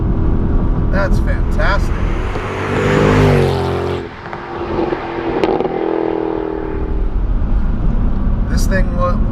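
A Mercedes-Benz CLK63 AMG Black Series with its 7-speed automatic swells into a loud engine roar that peaks, drops away and keeps rumbling steadily beneath people talking inside the car.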